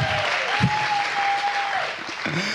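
An audience at a literary event applauds with steady clapping at close range, while a voice speaks briefly over the applause.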